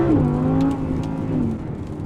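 An Audi R8 V10 Plus engine revs and pulls hard in the rain, its steady rising drone close and loud, with no voices.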